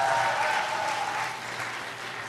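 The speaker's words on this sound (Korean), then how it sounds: "박수 부탁드리겠습니다." Audience applause at a Korean band's 40th anniversary concert, a steady dense wash of many hands clapping that fades slightly toward the end, heard alone without talk.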